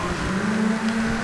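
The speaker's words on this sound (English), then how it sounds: "Through this tunnel here, the engine note change, which is quite nice." Rally car engine in SEGA Rally Revo driving through a tunnel, a steady loud droning engine note with a sustained hum under continuous road roar.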